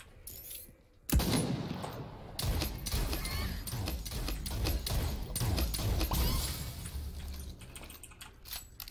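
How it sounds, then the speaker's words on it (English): Rapid in-game gunfire from the battle royale shooter Realm Royale, a dense stretch of repeated shots and clattering bursts that starts abruptly and continues steadily at moderate loudness with mechanical clicks mixed in. "I heard shots over here."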